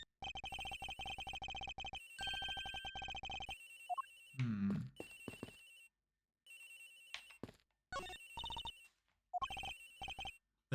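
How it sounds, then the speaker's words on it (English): Cell phone ringing in the Ace Attorney Investigations video game, a repeated electronic ringtone in bursts separated by short gaps, clear and up front, with brief game sound effects between rings. "Right next to his phone. It's ringing or something, sir."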